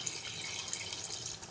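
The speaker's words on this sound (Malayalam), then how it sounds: "അപ്പം നമുക്ക് ആവശ്യത്തിന് വെള്ളം ഒഴിച്ച് കൊടുക്കാം." Water being poured into a pot of chicken curry, a soft continuous splashing and trickling that stays faint and close throughout.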